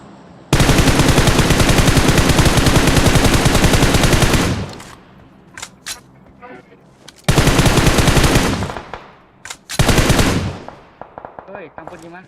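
Automatic gunfire from a PUBG Mobile match rattles in loud, sustained bursts, a long volley followed by shorter ones with brief gaps between them, and a voice speaks faintly in the background.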